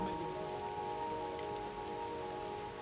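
Heavy rain falls outside in a steady, dense hiss of drops on surfaces, unbroken for the whole stretch and fairly soft in level.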